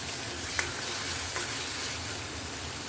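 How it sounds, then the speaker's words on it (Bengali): Spice paste with salt frying in hot oil gives a steady, even sizzle, close and moderately loud, with a couple of faint clicks. "মশলাটা এবার আমি ভালো করে কষিয়ে নেব যতক্ষণ না মশলা থেকে তেল ছাড়তে শুরু করছে"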